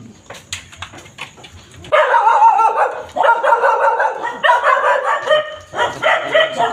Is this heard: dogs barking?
yes